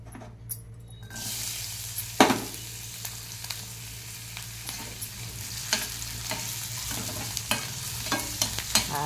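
Onions sizzle steadily in hot oil in a home kitchen pan, with a few sharp clatters of stirring over the constant frying hiss and a low hum underneath; no one speaks.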